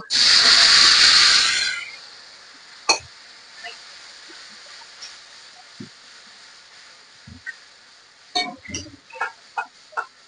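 Ground masala paste dropped onto fried onions in a hot pan for Dhakai paratha, a loud burst of hissing sizzle for about two seconds, then quiet with scattered clinks and light taps.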